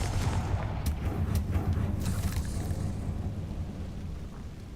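Confringo explosive spell cast in the Hogwarts video game: a loud, sustained rumbling blast with sharp crackling bursts near the start, dense low roar fading slowly over several seconds.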